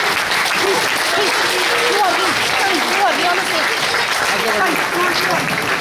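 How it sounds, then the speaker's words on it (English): Dense, continuous applause fills a youth soccer club presentation evening, loud and even throughout, with voices talking underneath the clapping. "I would like to say give a round of applause"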